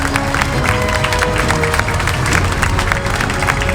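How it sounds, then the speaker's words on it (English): A crowd at an outdoor community rally claps and cheers together for a few seconds, a loud, continuous spatter of hands mixed with scattered whoops and crowd noise. "let's give an applause for the county board supervisors who fought against this"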